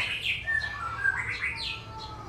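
A songbird sings a series of bright, whistled chirps and trills, close and clear over a faint low hum, with no voices.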